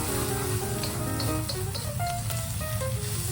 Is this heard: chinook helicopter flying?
no